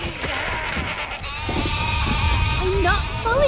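Sheep bleat repeatedly in the video game Overlord, several wavering calls heard close over busy in-game ambience and a murmur of background voices.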